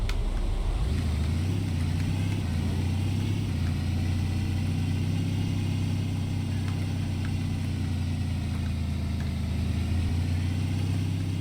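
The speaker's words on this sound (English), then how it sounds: "we're just driving a new car, taking it for a joyride" New car driving in the video game Big Ambitions, a steady engine hum with a brief rev near the start, holding a constant drone throughout with no talk.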